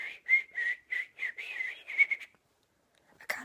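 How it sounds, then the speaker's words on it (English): A person whistles a quick run of short, bright notes close by, in an uneven tune of about ten bursts, then falls quiet before one last brief sound. "Can I whistle?"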